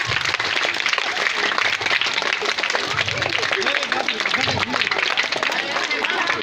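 An audience applauds at a lively biscuit-eating contest, a continuous crowd clapping with bursts of voices and chatter mixed into the noise throughout.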